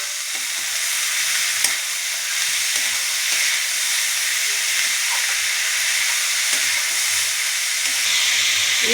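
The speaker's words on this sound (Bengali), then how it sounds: "একটু কষাতে হবে তো পেঁয়াজের সঙ্গে, রসুনের সঙ্গে, তো চাল ডালটা তো কষাতে হবে" Rice and lentils sauté with onion and garlic in a pan for khichuri, a loud, steady sizzle with frying hiss throughout. Faint scraping stirs sound near, with no talk.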